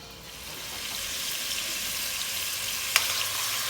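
Spices sizzle steadily in clarified butter in a saucepan for an Afghan rice dish, a continuous close hiss with one brief sharp clink near the end, no voices.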